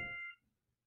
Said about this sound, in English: My phone dinged.